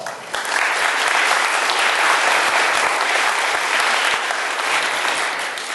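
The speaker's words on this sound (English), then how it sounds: "Can we give our I Am poem readers another round of applause?" A room full of people at an annual meeting evening event claps for poetry readers, a broad steady wash of applause that swells quickly and holds before easing slightly at the end.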